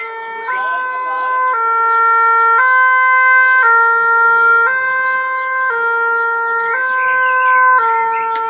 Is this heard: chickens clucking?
no